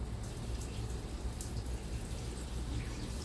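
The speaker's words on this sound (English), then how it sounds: "So I always wash my watermelon" Steady running water splashes continuously from a tap pouring over a watermelon being rinsed, with no talking.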